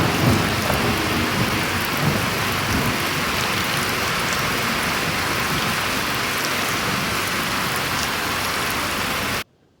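Heavy rain pours steadily in a dense, loud wash with rumbling thunder mixed in, continuing without a break for nearly ten seconds before stopping abruptly.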